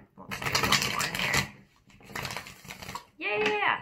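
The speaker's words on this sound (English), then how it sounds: "I'm going to do one or two more shuffles" Tarot cards being riffle-shuffled by hand, two dense crackling bursts of card flutter, then a short tonal chime-like sound at the end; a voice speaks softly in the background.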